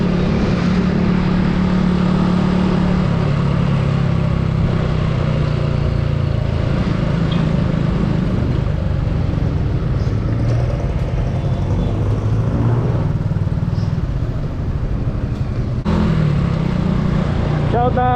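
A Honda Super Cub motorcycle rides along a road toward Southwoods, its small engine buzzing steadily with wind rumble throughout, loud and close, with a brief shift near the end.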